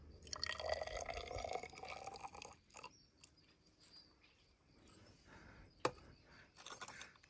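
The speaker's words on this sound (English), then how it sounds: "Transferring everything to the beaker." Liquid carrying black sand is poured from a vessel into a clean glass beaker, a loud splashing pour at the start that thins to soft trickles and drips, with one sharp clink near the end.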